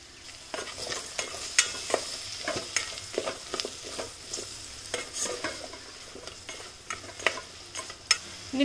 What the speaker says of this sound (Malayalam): ഇനി ഞാനിതിലേക്ക് കുറച്ച് ഇഞ്ചിയും വെളുത്തുള്ളി ചതച്ചതും 1 സവാള സ്ലൈസ് ചെയ്തും കൂടി ഇട്ടിട്ട് ഒന്ന് വഴറ്റി കൊടുക്കാം